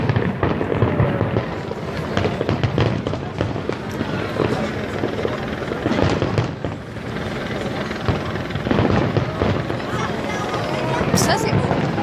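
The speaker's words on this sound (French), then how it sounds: "C'est un feu d'artifice." A fireworks display at the Eiffel Tower in Paris in 2015, a dense continuous roar of bangs and crackles heard from a distance among a crowd, with people talking nearby.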